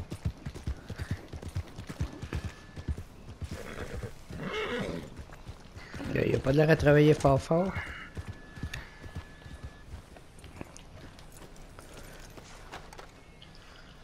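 A horse whinnies loudly in the middle of a Red Dead Redemption 2 game scene, with clip-clopping hooves around it and someone talking quietly in French before and after.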